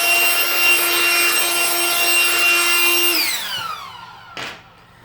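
A Ryobi One+ 18V P738 high-volume power inflator blows hard across a workbench to clear sawdust, a loud steady whining rush that winds down with a falling pitch, followed by a brief soft thump.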